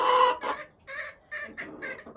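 Chickens cluck in short, repeated bursts at a farm, fairly close and clear, with a brief pause partway through and no talk over them.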